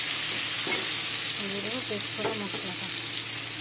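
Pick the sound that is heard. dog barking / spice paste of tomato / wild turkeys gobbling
spice paste of tomato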